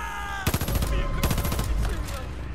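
Rapid bursts of gunfire from the video game Far Cry 5, two loud clusters of close shots in quick succession over a dense, noisy game background.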